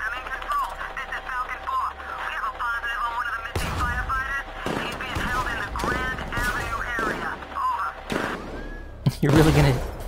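Gunfire in the game Batman Arkham Knight: sharp irregular shots and short bursts break in partway through and sit under chattering radio-like game voices, with a final loud crack near the end.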